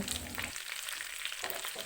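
Chopped onion and capsicum fry in a pan over a medium gas flame while cooking dry chilli chicken, giving off a loud, close, continuous sizzle with a brief dip in the middle; no one speaks.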